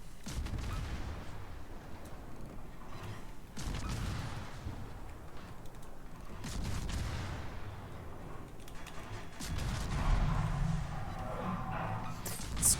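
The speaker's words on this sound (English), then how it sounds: "it's Seattle that's shooting at me" Naval guns of the ship Seattle firing in a video game, repeated heavy booms and rumbling salvos spaced a few seconds apart, loud with lingering low rumble between shots.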